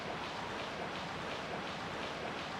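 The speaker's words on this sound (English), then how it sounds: "That water sound effect" Water sound effect from the video game Resident Evil: Dead Aim: a steady, broadband wash like rushing surf that runs unbroken at an even level throughout.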